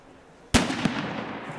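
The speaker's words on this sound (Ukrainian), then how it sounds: "Вибухотехніки вирішують коробку підірвати." An anti-tank mine's controlled detonation during a bomb-disposal exercise hits as one sharp, loud blast, followed by a brief secondary crack and a fading rumbling tail.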